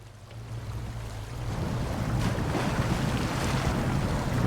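A heavy truck in the SnowRunner off-road game wades into deep water, giving a steady broad wash of water and engine rumble that swells louder after the first second and holds.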